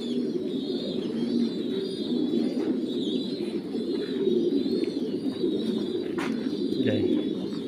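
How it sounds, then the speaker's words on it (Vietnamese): Young pigeons call continuously in a bird-raising coop during cold weather, a dense, steady chorus of soft cooing and chirping from many birds close by. "Đây, chim non đây."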